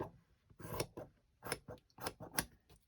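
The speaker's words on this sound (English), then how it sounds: "we're going to just trim this down" Scissors trim paper for a mini hard-cover junk journal cover, giving a quick run of crisp snipping cuts in uneven bursts, close and fairly quiet, with no talking.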